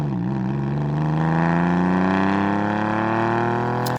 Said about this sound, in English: we have a variety of different high quality recordings of the Porsche 911